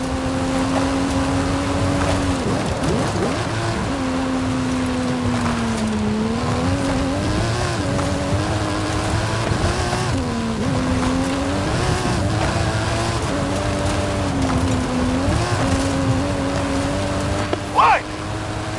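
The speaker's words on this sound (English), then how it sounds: "That stunt vehicle is a Mike Steel Special" Stunt car with a custom engine and suspension in a Forza racing game, its engine droning loud and steady throughout with rising and falling revs as it climbs a hill.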